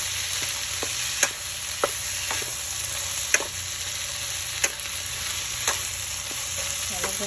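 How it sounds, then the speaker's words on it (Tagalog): Onion, tomato and garlic sauté in a pan with a dense, even sizzle throughout, broken by a few sharp clicks of a spatula against the pan, close and steady, with no voices. "Ilagay ko na ngayon guys ang sibuyas, kamatis at saka bawang. Ayan na guys, nagmamasita na siya ng konti."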